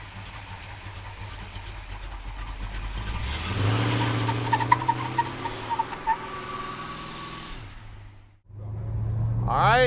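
A 1968 Plymouth GTX engine runs up close, a deep steady rumble that climbs and revs, briefly drops out, then comes back strong.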